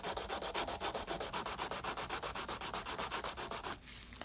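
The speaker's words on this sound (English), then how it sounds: "very gently filing my sidewalls, shaping my free edge" A nail file gently works along the sidewalls and free edge of a sculptured pink and white acrylic nail made with odorless liquid monomer, giving steady rapid back-and-forth rasping strokes, close and alone, stopping just before the end.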